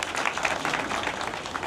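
An audience at a World Blood Donor Day ceremony breaks into sustained, even applause, many hands clapping at once with no talk over it.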